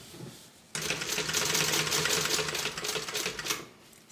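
A sewing machine stitches quickly to finish a seam on a tote bag, starting abruptly after a quiet moment and running as a close, steady mechanical whir with rapid needle ticks.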